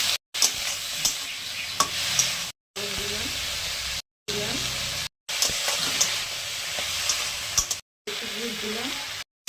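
Tomato sizzling in hot oil with dried red chillies and black cumin seeds, a bright, hissing fry broken into several segments by short silent cuts, with a voice speaking faintly beneath it in places.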